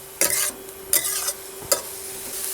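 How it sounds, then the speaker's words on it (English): A pan of Hunan braised pork with dried sweet potato leaves sizzles softly as the last of its water cooks off. Three short bursts of stirring and scraping come close by, and a steady low hiss runs beneath them. "When you start to hear kind of a sizzling, you know that the water is almost"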